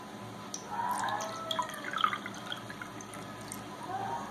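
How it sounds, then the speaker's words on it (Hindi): Water is poured into a bowl of onion paste, a thin continuous trickle with light dripping and splashing that swells slightly midway, close and fairly quiet. "जब ये बन जाए इसके बाद इसमें 2 कप्स पानी के ऐड करने हैं।"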